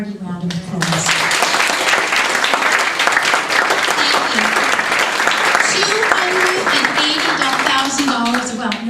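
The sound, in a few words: audience applause at school board meeting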